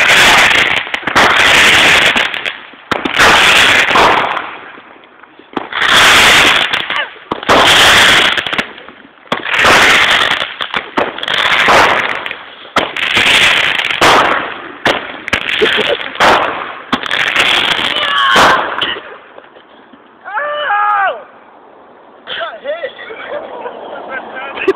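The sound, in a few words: bottle rockets and firecrackers going off in a firework war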